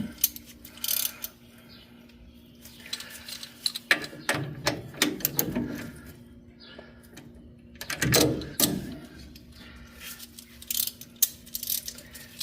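A socket wrench works loose the tight upper ball joint nut on a 1965 Chevelle during a disc brake swap, giving repeated ratcheting clicks in bursts, with heavier strains of effort between, close up.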